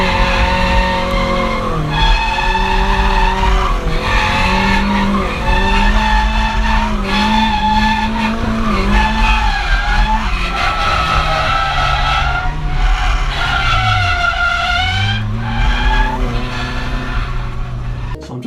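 Nissan S14 Silvia SR20DET drift car sliding on track, its engine revving hard and wavering through shifts while tires skid and squeal continuously, loud and close throughout.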